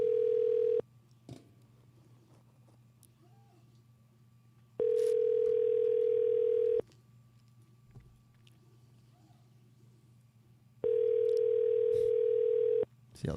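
An outgoing phone call rings on the line with three long steady tones, each about two seconds long and separated by roughly four seconds of quiet, over a low background hum.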